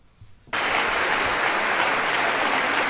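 Lawmakers at the State of the Union address break into loud, dense applause after a brief quiet moment, some of them standing, and it continues steadily to the end.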